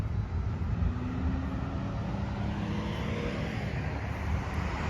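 Steady road traffic on a street in Etobicoke, Toronto, near a festival area, with car engines and tyre rumble rolling past continuously at moderate loudness, no talk over it.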